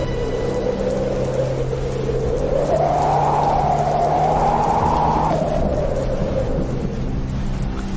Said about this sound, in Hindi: तभी तेज बारिश का झोंका आता है